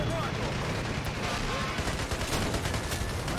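Gunfire from a ZiS field gun in the World War II strategy game Men of War: Assault Squad 2, with a dense battle din of repeated shots and booms running steadily throughout, the loudness never dropping.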